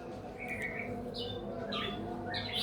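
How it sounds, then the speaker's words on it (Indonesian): Oriental magpie-robin (murai batu) giving several short bright chirps and squawks over a steady low background hum, calls coming in brief bursts at moderate distance. "Di depan layar kaca teman ini ada murai batu saya yang kondisinya itu ketika di lapangan"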